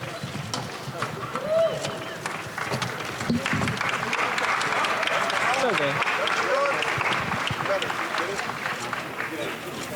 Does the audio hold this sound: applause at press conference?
yes